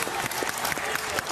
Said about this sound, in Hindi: सुदेश पाजी के लिए एक बार जोरदार तालियां